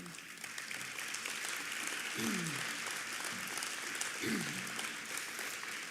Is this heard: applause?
yes